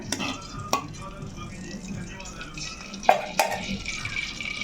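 Coriander leaves dropped into hot oil in a kadai give a soft sizzle with stirring and a few sharp clinks of a utensil against the pan, under a low background hum.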